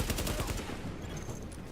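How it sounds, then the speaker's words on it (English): Rapid, fairly quiet automatic gunfire from the video game The Division, a dense rattling burst of shots that fades slightly over its length, with no talking. "With all that gunfire drawing the Rikers' attention"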